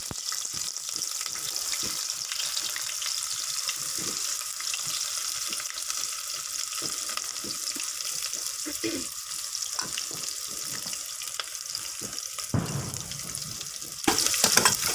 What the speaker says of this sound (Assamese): মই এতিয়া অলপ পিঁয়াজখিনি ভাজ খাব দিম